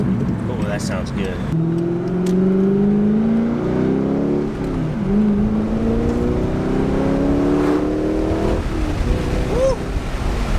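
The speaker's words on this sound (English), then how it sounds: "I hope you can hear the exhaust on camera. It's such a distinct sound." A C5 Corvette fitted with a Billy Boat Bullet axle-back exhaust revs and pulls away, a loud, raspy engine note rising through the gears in repeated sweeps, close by and continuous.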